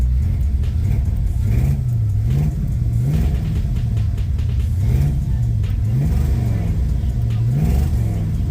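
A Chevy truck engine revs up and down in repeated rising and falling sweeps over a steady low rumble, loud and close, with faint speech mixed in.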